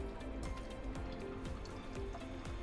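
Gravy liquid from roast beef and pressed vegetables pours through a sieve into a saucepan, making a soft, steady trickle and splash with faint drips at low volume.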